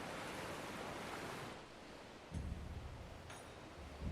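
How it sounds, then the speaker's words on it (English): Sea waves crash off the coast approaching the port of Kugane in Final Fantasy 14, with a steady surf wash followed by two distinct breaking surges. "the crash of the waves as we drew closer to Kugane"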